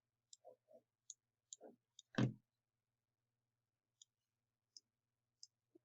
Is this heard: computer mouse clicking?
yes